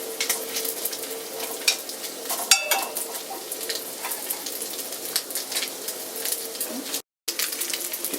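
Bacon sizzles and crackles steadily in a cast iron pan, a close, continuous fry broken by occasional sharp pops and light utensil clinks, with a brief dropout near the end.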